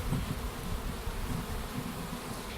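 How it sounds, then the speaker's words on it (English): Steady, dense buzzing of many honeybees at an open hive, close and continuous, with no voices. "the bees are buzzing away quite happily"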